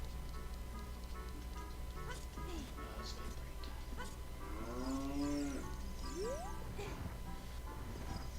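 A cow in Legend of Zelda: Ocarina of Time Master Quest gives a drawn-out low moo, followed by a shorter rising moo, heard at moderate level over a steady background hum and quiet game sounds.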